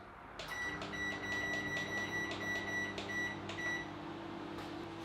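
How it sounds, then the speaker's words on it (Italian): Microwave oven running at full power alongside an oven on a home power station: a steady low hum with repeated short electronic beeps near the start, then the hum continues alone, close by. "facciamo andare anche il microonde per 5 minuti."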